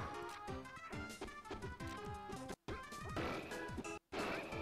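Rapid game-style smash and thwack impacts from forward smash attacks in a Super Smash Bros grand final match between Captain Falcon and Kirby/Yoshi, dense and punchy over busy music, with two brief gaps of silence.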